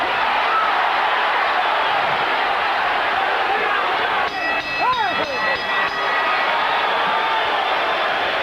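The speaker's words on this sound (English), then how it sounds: "The crowd, many from Mexico, should erupt with applause at the bell" A large boxing crowd, many fans from Mexico, roars and applauds at the bell of the Chavez vs Lonnie Smith WBC super lightweight title fight. The noise is loud and sustained, with a brief shout or whistle rising above it midway.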